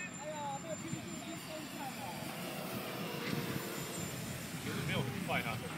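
FMS 1.4 m P-51 model airplane on its maiden flight, its engine droning steadily at a distance outdoors, faint but continuous, while people talk nearby over the hum.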